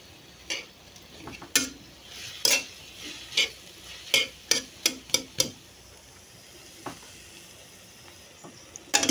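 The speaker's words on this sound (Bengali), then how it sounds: "এখন নুডলসটা নাড়াচাড়া করে সিদ্ধ করে নিব ভালোভাবে" Broken noodles stirred in a pot of boiling water, with a series of sharp utensil knocks and scrapes against the pot over a quiet bubbling background, irregular and close.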